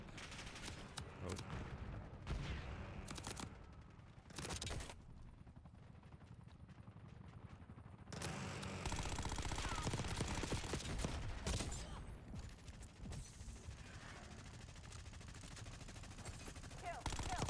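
Rapid bursts of automatic gunfire crackle in a military shooter video game, dense volleys near and loud with brief pauses, a helicopter-like drone underneath and radio chatter mixed in.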